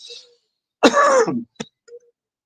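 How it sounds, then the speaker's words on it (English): A single hoarse cough burst, close and fairly loud, followed by a brief sharp catch and a couple of faint small sounds in otherwise quiet surroundings. "Please forgive. I am coughing."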